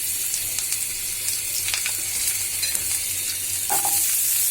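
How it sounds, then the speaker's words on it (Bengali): Diced onions fry in oil left over from frying rohu fish, a continuous close sizzle broken by scattered light clicks and scrapes of stirring. "মাছ ভাজা তেলেই এটা ভাজা হয়ে যাবে"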